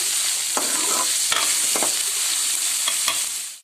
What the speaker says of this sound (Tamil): வெங்காயத்தை மொத்தத்தையும் சேர்த்துட்டு காட்டு வெங்காயம் நல்லா வதங்கட்டும்